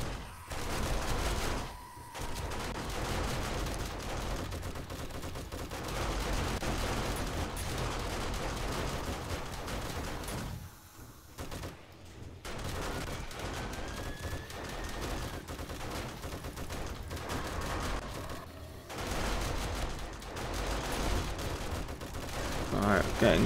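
Shotgun fire in 7 Days to Die comes as repeated loud blasts over a busy, noisy game soundscape, with brief quieter gaps between volleys.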